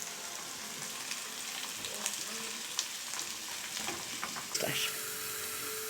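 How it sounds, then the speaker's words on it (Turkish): A steady, close sizzle of green beans frying in a large black village pan, with occasional soft clinks and stirring sounds, no talking. "Bunu böyle kıtır kıtır kızartacağım arkadaşlar."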